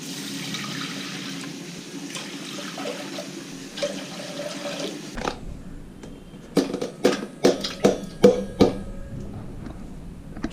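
Water pours onto two handfuls of rice being prepared as chicken rice for a dog; a steady close trickle gives way to a series of sharp splashy bursts.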